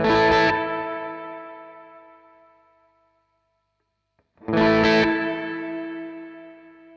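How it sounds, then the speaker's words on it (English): Two sharp bright tones, each followed by a long reverb tail set to low diffusion, decaying with a warbling, grainy shimmer over a couple of seconds before silence. "you can hear it sort of warble more with the diffusion set lower"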